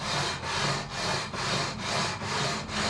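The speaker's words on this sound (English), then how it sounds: "that is precision level top, precision level bottom, 240 grit on the bottom, and we're just going to follow the radius" Rhythmic back-and-forth scraping of 240-grit abrasive on a precision level sliding along the frets of a Squier Affinity Telecaster neck, following the radius; about seven even strokes in three seconds, close and steady with no talk.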